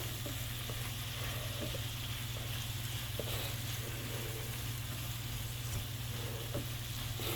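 Blueberry sausage and sugar snap peas sizzle in a frying pan as they are stirred, a steady, close crackling hiss that continues throughout with no talking.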